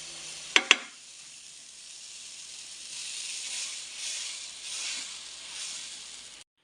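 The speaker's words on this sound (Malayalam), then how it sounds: "കല്ല് ചൂടായി, മാവ് വയ്ക്കട്ടെ കൂട്ടുകാരെ." Dosa batter poured onto a hot griddle stone: two sharp clicks at the start, then a soft, rising sizzle that swells and fades in waves, close and without talk.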